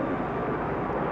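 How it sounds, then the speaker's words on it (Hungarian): A suspicious aircraft flies past in an action film, a dense steady engine roar that stays loud and continuous throughout with no voices. "Na, 10 órára gyanús gép száll előtte."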